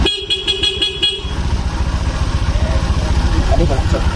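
Honda fuel-injected motorcycle, earlier troubled by exhaust backfiring and a code 21 fault, starting up after a few short stuttering pulses, then settling into a loud, close, steady rhythmic idle.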